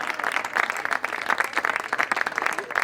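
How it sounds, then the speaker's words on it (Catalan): An audience claps together in a steady, dense burst of applause lasting about three seconds, moderately loud and with no voices over it. "Un aplaudiment."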